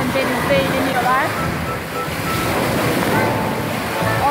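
Sea waves washing onto the beach at the ancient city of Phaselis in Antalya, a steady broad surf wash with wind noise across the whole stretch, loud and continuous, with faint voices and children playing in the background.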